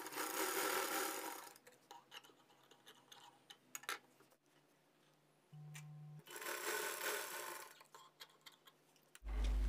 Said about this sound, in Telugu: ఈ అంచు దగ్గర నుంచి ఈ అంచుకి స్టిచ్ చేయాలి.